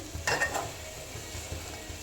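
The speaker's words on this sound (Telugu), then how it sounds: "మనం మిక్సీ పట్టుకున్న ఈ మన టమాటా పచ్చడిని కూడా మంచిగా ఇందులో వేసుకొని కలుపుకోవాలి" Ground tomato chutney is stirred into a tempering of cumin, garlic, chili and curry leaves sizzling in oil, with a quick burst of spoon scraping and splatter, then a softer steady sizzle.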